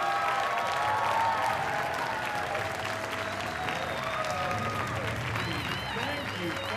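A comedy club crowd in New York applauds and cheers its host, a dense, steady wash of clapping that fills the room for several seconds, with scattered voices rising above it.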